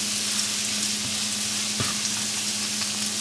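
Ginger and garlic sizzle steadily in a very hot pan for Indo-Chinese chili chicken while being stirred, a dense continuous frying hiss with a few soft spatula scrapes, close and fairly loud.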